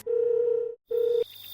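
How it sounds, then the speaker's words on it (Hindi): Telephone ringback tone during a call to a friend: two steady, loud tonal beeps, each just under a second, separated by a short silence, followed by a fainter hum. "फिर से दोस्त को फोन किया"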